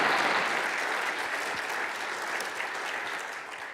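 A studio audience at a morning live show in Mesa breaks into a steady, dense round of applause that stays loud and even throughout, easing slightly toward the end.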